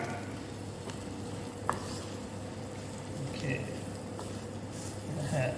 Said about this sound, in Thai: ใส่น้ำพริกลงไปผัดครับ ผัดให้เข้ากัน